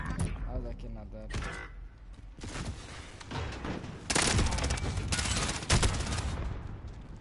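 Rapid bursts of gunfire ring out in a tactical shooter video game, dense and close over ongoing game noise, with players talking over the shots.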